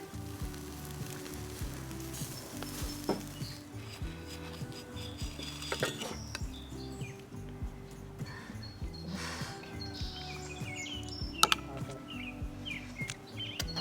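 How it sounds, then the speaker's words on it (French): Naan bread brushed with olive oil warms over an outdoor campfire, giving a soft continuous sizzle and crackle with scraping and faint birdsong in the background. "le pain nan à l'huile d'olive réchauffée sur le feu"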